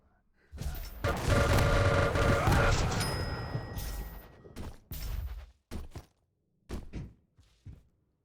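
In a video game duel, a heavy barrage of gunfire roars in a thick, sustained wall of blasts for several seconds, then breaks into a few separate thumping shots with silent gaps.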